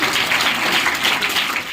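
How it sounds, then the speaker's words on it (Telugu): Children clap together at a school event, a dense and steady round of applause that stays loud and even, then stops abruptly. "పిల్లలు చప్పట్లు కొట్టాలమ్మా, అది గౌరవం."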